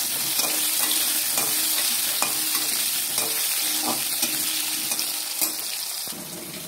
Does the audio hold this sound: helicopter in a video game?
no